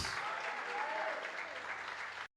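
A church congregation applauds after a preacher's call, a dense, even wash of clapping that holds steadily for about two seconds before cutting off abruptly.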